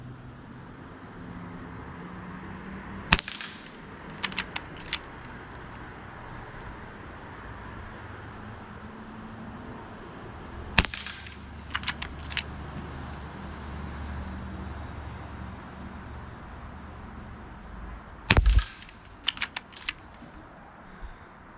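A Gamo Arrow Classic .22 air rifle fires pellets at targets 30 yards away, giving three sharp, close cracks spaced several seconds apart, each followed by a few faint clicks, over a low outdoor hum with traffic-like background.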